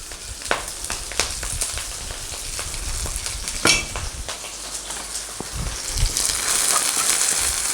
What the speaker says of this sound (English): Just before my garlic starts to burn, I'll add my spring onions.